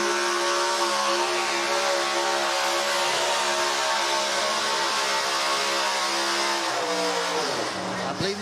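A pulling truck's engine roars at a truck and tractor pull at the Putnam County Fair, a loud sustained harmonic drone that holds steady and then drops in pitch near the end.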